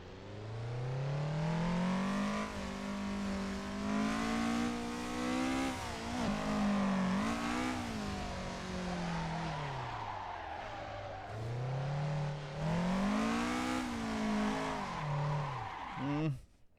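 A car engine revs and swings up and down in pitch while drifting in the racing game Assetto Corsa, with a sustained loud roar, throttle blips and tire noise, and a voice speaking underneath.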